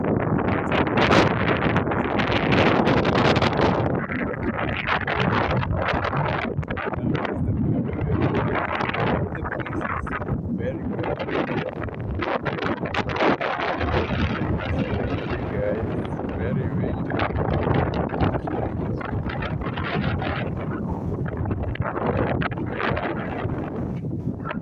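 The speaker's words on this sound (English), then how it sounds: "Very windy here." Strong wind buffets the microphone on an open hilltop, a loud continuous roar with gusty surges throughout, with voices faintly audible in the background.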